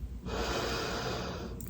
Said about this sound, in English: Take a nice deep breath into the belly.